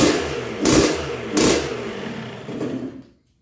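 A 1986 Honda CR125R two-stroke dirt bike with a new .060-over top end runs and warms up, a raspy idle rising into two quick throttle blips and a smaller third before cutting off.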